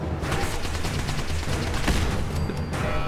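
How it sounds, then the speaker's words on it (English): A fragmentation grenade and gunfire in Fallout 4 make dense, continuous battle noise: rapid overlapping shots and bursts with no clear gaps, loud and steady throughout, without talk. "When all else fails, throw a grenade."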